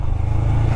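A Royal Enfield Himalayan motorcycle engine-braking down a steep mountain track toward Manang, its engine giving a steady, close, low rumbling drone with no one speaking.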